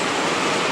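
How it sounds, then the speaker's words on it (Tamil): Heavy rain pours outside in a dense, steady hiss, loud and close with no gaps or voices. "குளிர் தான், செம்ம மழையாக பாருங்க"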